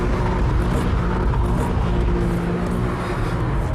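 A Porsche 911 Carrera is driven hard and its rear slides out, the engine roaring loud and continuous with road and tyre rumble and no voices.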